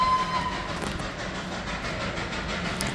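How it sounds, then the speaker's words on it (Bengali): A small coal-fired steam toy train rumbles and clatters steadily nearby as it approaches Ghum station near Darjeeling, a brief thin whistle-like tone sounding at the start over the continuous mechanical noise. "এখন একটা কোল অপারেটেড ইঞ্জিন সমেত টয় ট্রেন আসছে"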